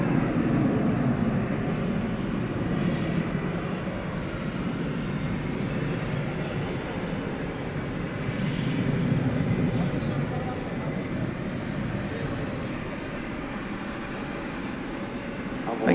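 A Boeing 757 airliner at DFW Airport produces a broad, steady jet engine roar that swells and fades slightly over the whole stretch, heard from a distance with a faint voice underneath.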